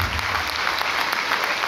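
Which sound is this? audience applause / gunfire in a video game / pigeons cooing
audience applause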